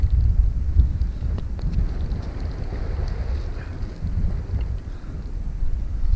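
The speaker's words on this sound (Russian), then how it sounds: "Сразу же пошел дождь" Strong wind buffets the open air over a lake during rain on a fishing trip, a steady low roar with gusty rumbling close to the microphone and no voices.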